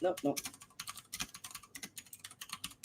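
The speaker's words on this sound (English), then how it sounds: "That's my keyboard." Rapid typing on a computer keyboard, close and fairly quiet, with irregular bursts of clacking keystrokes running steadily through the whole stretch.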